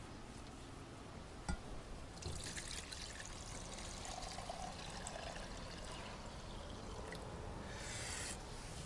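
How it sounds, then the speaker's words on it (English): Fresh fruit juice pours steadily into a measuring cup as a quiet, continuous trickle and splash lasting several seconds, with no talking. "We're going to carefully pour this into our measuring."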